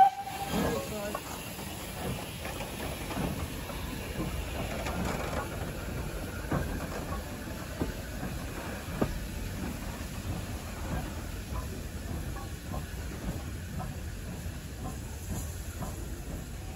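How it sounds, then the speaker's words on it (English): A 2MT steam locomotive on a heritage main line runs round its train at a station, giving a soft, steady hiss with faint mechanical clanks and knocks at a distance. "the 2MT was needed for another trip down the line, so it was time for it to run round the train again"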